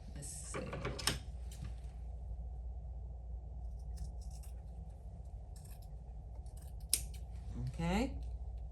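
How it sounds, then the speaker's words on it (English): Scissors snipping the fabric edges off a quilted crossbody handbag, a quick cluster of sharp cuts up close followed by a single later snip, over a low steady room hum. "So now what we're going to do is we're going to cut the edges off."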